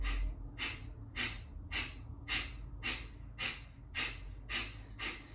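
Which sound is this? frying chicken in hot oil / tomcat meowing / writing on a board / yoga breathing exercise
yoga breathing exercise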